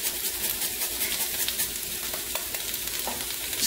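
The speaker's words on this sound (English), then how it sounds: "Give that a quick stir." Grated ginger is stirred into a pot of seafood pelau: a continuous close sizzle with scraping, clattering stirring strokes and no voices.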